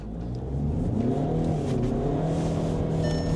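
A VAG car with Haldex all-wheel drive accelerates hard in sport mode, its engine note loud, close and steady, rising under a continuous drone for several seconds.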